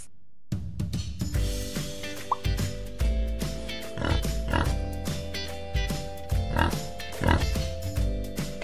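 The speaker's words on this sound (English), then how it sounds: "Pig." A pig oinks and grunts in short repeated snorts, close and clear, layered over a steady low musical backing with a beat.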